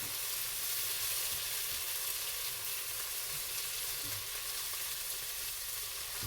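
Peppers frying and browning in a pan for Spanish poor man's potatoes give a steady, close, even sizzle that hisses continuously throughout, with no voices.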